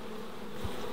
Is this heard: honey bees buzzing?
yes